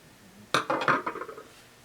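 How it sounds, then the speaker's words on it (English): Applique scissors trim bulky sewing fabric near a seam allowance in a short run of crisp metallic snips and clicks lasting about a second, close and distinct in a quiet room, with no talking. "I'm just going to take a pair of scissors, and I've got applique scissors here, and I'm just going to trim the fabric"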